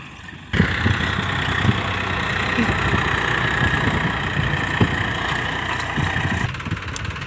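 A tractor engine runs steadily while a newly dug well's spoil is being cleared on a farm plot, a loud, constant drone that starts abruptly and holds for several seconds with occasional knocks.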